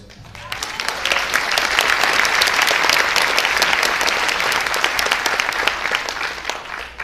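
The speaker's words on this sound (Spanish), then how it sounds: "Entonces un fuerte aplauso por eso" A crowd at a stand-up comedy night in Peru bursts into full, dense applause that swells quickly, holds strong for several seconds, then tapers slightly near the end.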